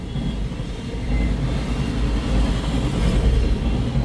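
CN freight train, led by an MEI rebuild locomotive, rolling past at Ladysmith, Wisconsin, with a DPU on the tail. Steady, loud low rumble of cars under broadband rail noise, no talk.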